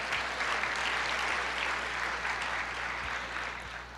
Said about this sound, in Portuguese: Você pode aplaudir, dizer: eu creio, eu recebo em nome de Jesus.